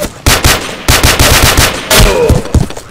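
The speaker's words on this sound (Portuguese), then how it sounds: "o bicho me deu um headshot de shotgun pulando igual um canguru" Gunfire in the blocky multiplayer shooter Ace of Spades, with loud, close shots in quick rhythmic bursts separated by short pauses.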